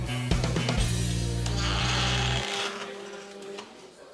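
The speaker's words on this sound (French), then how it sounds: "un système de serrure pour la porte d'entrée du laboratoire qui permettra d'ouvrir la porte avec" A 3D-printed motorised door lock for a laboratory entrance, controlled by a mobile app, whirs steadily for about two seconds during its first test, then stops, leaving a faint rattle and quiet room tone.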